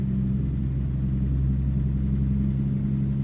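A car engine in a video game drives on a road trip heading into Montana, holding a steady low rumbling drone throughout without clear revving, loud and continuous.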